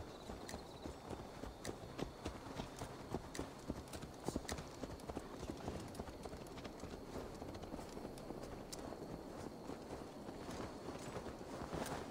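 Steady clip-clop of horse hooves on a hard surface in Assassin's Creed Valhalla, a continuous walking rhythm with faint background ambience throughout.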